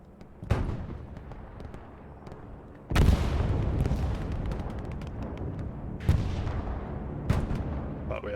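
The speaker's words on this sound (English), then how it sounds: "But we are seeing a bombing run." Bombing run explosions in a competitive video game match on a map called Brecourt, several heavy booming blasts with rumbling decay, one after another at irregular intervals.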